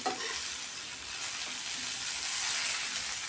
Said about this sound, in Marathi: आता भेंडी आपली तर परतायला लागली आहे